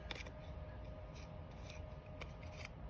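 Scissors snip through paper ephemera pieces in quick, faint, close-up cuts, a few short crisp snips and rustles over a quiet background.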